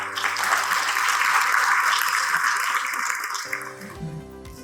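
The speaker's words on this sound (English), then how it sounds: "welcome Dr. Imad Syed, the huge round of applause" A conference audience at a Qatar AI summit gives a dense, loud round of applause for a speaker being welcomed on stage. The applause fades sharply near the end as a tonal music sting takes over.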